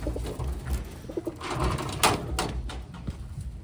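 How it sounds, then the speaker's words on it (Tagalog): Soft coos from a blue bar pigeon hen drift in over a low background rumble, a few gentle calls spread across the stretch with some faint clattering. "Pangatlong ibon natin mga kalapatids."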